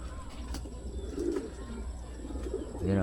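Young racing pigeons circle overhead during an afternoon loft fly, with soft cooing and faint chirps over steady outdoor background noise, and a few wingbeats and pops at a distance.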